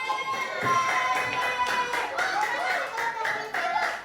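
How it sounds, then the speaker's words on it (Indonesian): Students clapping in an Indonesian primary school classroom, a scattered run of hand claps with some light chatter and chuckles mixed in, fairly close and moderate in level. "Oke, tepuk tangan buat kalian."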